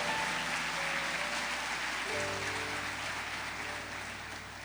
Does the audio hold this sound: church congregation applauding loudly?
yes